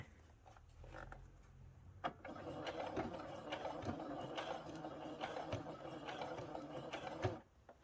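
A sewing machine stitches a satin-lined bonnet, starting after a quiet moment into a continuous rapid mechanical whir with clicking, steady and close until it stops near the end.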